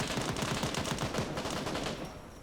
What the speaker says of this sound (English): Let's fire some RPGs.